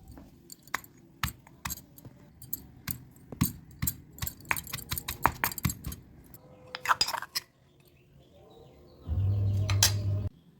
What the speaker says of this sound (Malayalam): ഇനി അല്പം കുരുമുളക് ആദ്യം ഒന്ന് ചതയ്ക്കാം ശേഷം വറ്റൽ മുളകും ചതച്ച് ശേഷം ബാക്കി വെളുത്തുള്ളിയും ചുവന്നുള്ളിയും കൂടി ചതച്ച് എടുക്കാം